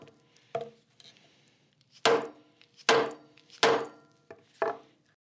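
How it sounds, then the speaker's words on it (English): Benchmade Anonimus knife with a CRU-Wear steel blade chopping down through a cable onto a cutting board, giving several sharp, close, loud thunks in an uneven rhythm, with lighter taps and rubbing between them. "the cable and the knife end up cutting down into the cutting board"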